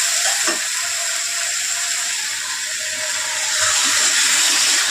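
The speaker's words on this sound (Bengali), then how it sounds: "এটা আমরা মিনিট 3 আবার কষে নেবো।" Spices for an egg and soybean curry fry in a pan with a steady, fairly loud hissing sizzle that continues without a break and without speech.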